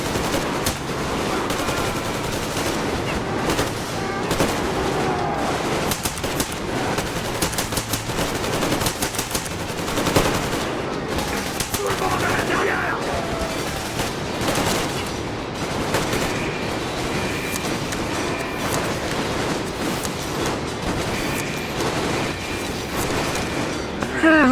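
Rapid bursts of automatic gunfire from a weapon in the Metro Exodus video game crackle almost nonstop during an ambush, loud and dense, with someone speaking briefly over the shots.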